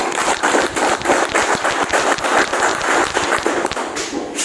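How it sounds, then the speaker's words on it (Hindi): An audience at a Safe Shop training session claps loudly, a dense steady patter of many hands sustained throughout. "इसलिए एक बार जोरदार तालियां।"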